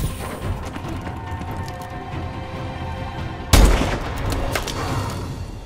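SVO sniper rifle fired in a first-person shooter game, one sharp loud shot cracking over a background of game battle noise, followed by a decaying echo.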